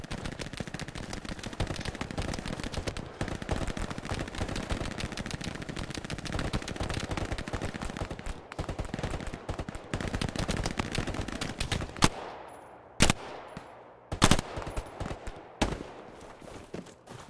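Heavy gunfire in a combat game: dense, rapid machine-gun bursts rattle almost continuously for about twelve seconds, then give way to a few loud, isolated blasts, one of them a tank shot, no speech.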